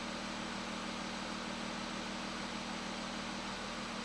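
An Audi A6 C7 with the 3.0 TDI V6 diesel idles quietly after a timing overhaul, a smooth, even low hum with a steady tone and no talk over it.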